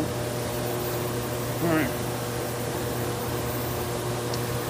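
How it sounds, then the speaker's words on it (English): A Wascomat coin laundromat washer on its final spin cycle gives off a steady, even mechanical drone with a low hum running throughout, and a voice speaks briefly over it. "now this one's on the final spin cycle"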